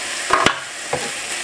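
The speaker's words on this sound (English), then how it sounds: "And we're going to start stirring those in." A spoon stirs chopped roasted bell pepper into sloppy joe meat in a pan, giving a couple of quick close scrapes and a soft later swish over a faint sizzle.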